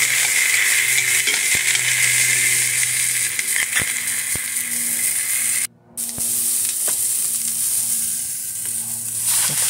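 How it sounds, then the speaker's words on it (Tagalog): Onion and garlic sautéing together in hot oil for chicken adobo, a loud, steady sizzle with occasional scrapes and stirs throughout, no talk. "Lagyan na rin ako ng sibuyas at saka bawang. Pinagsabay-sabay ko na guys para"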